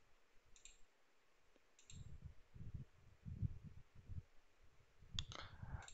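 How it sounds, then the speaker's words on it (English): A few sharp computer mouse clicks, quiet and close, on a desk during web API setup work; brief isolated taps early on, then a denser cluster near the end over low background rumble. "So click on plus, it will open a new request."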